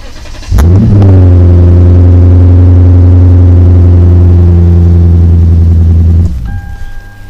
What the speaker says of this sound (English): So let's, once again, get this exhaust started.